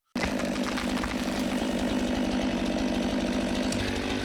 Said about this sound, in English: The chainsaw screams, each cut as precise as a surgeon's scalpel.